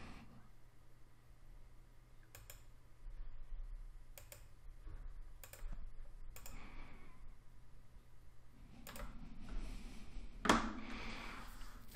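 Keys tapped to enter a PIN on a keyboard while setting up a Trezor hardware wallet: several soft, separate clicks spaced a second or two apart, faint and close, in a quiet room.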